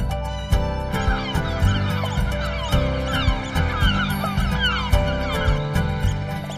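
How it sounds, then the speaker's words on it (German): Farm animals and birds on a Hallig in the Wadden Sea salt marshes, with honking fowl and geese calling in a busy, overlapping chorus that carries steadily throughout. "Für die Unterhaltung sorgen die Tiere auf dem Hof und die vielen Vögel in den Salzwiesen."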